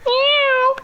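Voice imitating a hairless cat's meow: one drawn-out, nasal, steady-pitched cry under a second long, close and loud.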